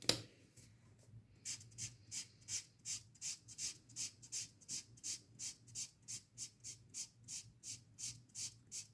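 Twinmarker alcohol markers colouring on paper, blending three unrelated colours: a regular train of close, soft scratchy strokes about two per second, continuing steadily without any talk.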